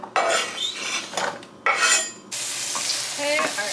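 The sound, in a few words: diced onion sizzling while frying in a pan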